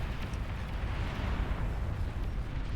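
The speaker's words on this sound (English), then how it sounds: "Going to get one bombing run off." Bombers dropping bombs in a Beyond All Reason real-time strategy match, producing a dense, continuous rumble of overlapping explosions that stays loud and steady throughout.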